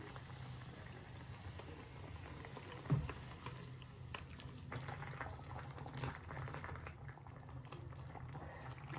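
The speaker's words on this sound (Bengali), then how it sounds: "এই যে ঝোলটা ফুটে উঠছে" Fish curry gravy simmering in a pot, giving a quiet, close bubbling and soft liquid patter with one brief knock near the start and no talking.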